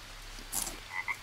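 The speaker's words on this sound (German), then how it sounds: "Lass mich in Ruhe, blöder Frosch." A frog croaking in the jungle survival game Green Hell: a couple of short, faint croaks against a quiet ambient background, with no talking.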